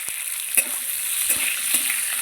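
Drumstick pieces drop into a hot spice tempering with salt for a Bengali milk shukto, crackling with a bright, loud sizzle while a few sharp knocks and scrapes of stirring break through, close and without speech.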